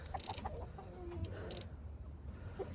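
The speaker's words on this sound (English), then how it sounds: "I see you, mean rooster. Go. Don't crow at me." Faint clucking from chickens and a rooster with a few short sharp calls, sporadic and fairly distant over a low background murmur.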